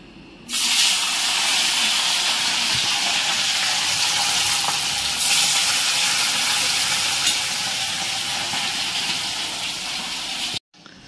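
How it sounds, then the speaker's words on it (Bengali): Fish dropped into hot oil, setting off a loud, steady sizzle with a broad hiss that swells briefly midway and cuts off abruptly near the end. "এই যে মাছ ছাড়ছি।"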